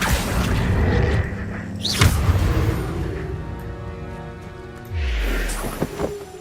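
A spell cast in Hogwarts Legacy lands with a deep booming whoosh and magical swirl, followed later by a second low swelling rumble; no one talks over it.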